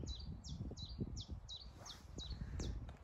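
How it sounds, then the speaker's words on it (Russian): Small birds sing in a spring garden, repeating a bright, high chirp about every third of a second at moderate distance, with soft rustling and low background noise underneath. "Птички поют."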